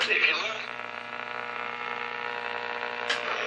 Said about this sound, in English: That's a strange sound. It's very tin can,